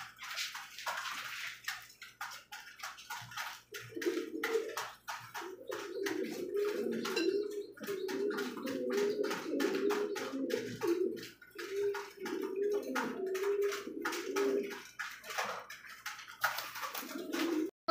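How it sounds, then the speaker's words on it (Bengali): Racer pigeons at a pigeon seller's loft coo steadily in low, throaty rolling phrases, one call blending into the next, close and fairly loud, with faint background clatter and no speech. "চমৎকার আরেকজন রেসার কবুতর"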